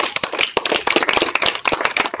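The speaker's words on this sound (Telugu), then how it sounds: "have a big clap" A group of trainees in a first aid class clap together, a dense, close, loud burst of overlapping hand claps that stays steady and lively for a couple of seconds.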